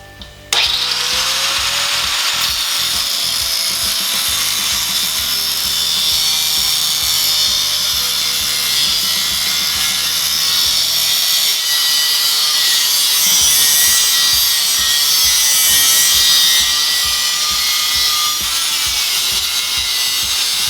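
Power tool cutting off the tip of a Maxim XJ650 motorcycle muffler, a loud continuous high-pitched grinding whine with rhythmic pulsing underneath, starting after a brief knock and running steadily for twenty seconds with no voices.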